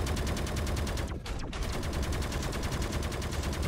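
Grenades going off in the game Dysmantle: a dense, loud run of rapid explosive blasts that fills the whole stretch, broken only by one brief dip near the start.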